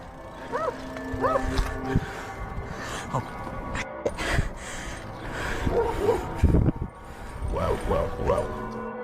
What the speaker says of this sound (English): he hears barking behind him and the chase is on again